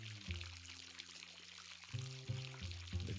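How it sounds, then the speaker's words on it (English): Water pours into a cup until it overflows, making a gurgling stream with rising tonal resonances in two bursts, fairly close with no voices. "As the cup fills, it begins to overflow,"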